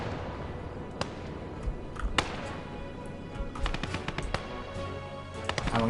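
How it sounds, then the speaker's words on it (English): Mortar fire in the WWII strategy game Call to Arms: Gates of Hell on the Eastern Front: sharp, scattered booms and crackling impacts burst over a constant dense rumble of battle, several thumps landing close together toward the end. "Yeah, there comes the mortar again."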